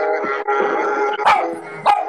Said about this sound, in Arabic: اقلع ذا الكلب اللي نابح